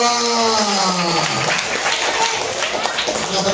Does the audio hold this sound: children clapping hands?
yes